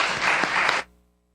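A church congregation claps to welcome the children's group forward, a dense burst of applause that runs for under a second before cutting off abruptly into silence.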